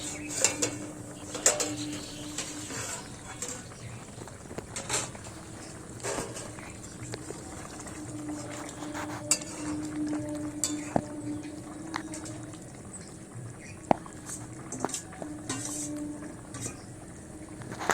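A pan lid is lifted and paneer is stirred in a pot, with scattered metallic clinks, scrapes and clatters over a low background hum, mostly close and intermittent.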